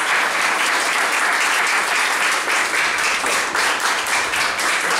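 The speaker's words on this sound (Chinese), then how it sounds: "所以我们先热烈掌声欢迎他来" A crowd applauds warmly to welcome a guest at a gathering, dense steady clapping that stays loud and close throughout with no pause.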